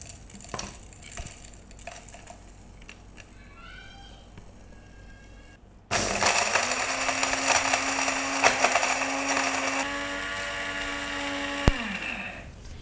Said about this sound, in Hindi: तो चलिए अब इसको ग्राइंड करके पाउडर बना लेते हैं।